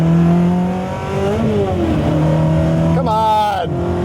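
A Ferrari engine revs toward 9000 RPM and drops in pitch, with voices talking over the engine noise throughout.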